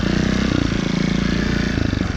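A 2018 Beta Evo Factory 300 4T trials motorcycle riding up onto a log, its single-cylinder engine putting steadily at low revs, loud and close with a continuous pulsing drone.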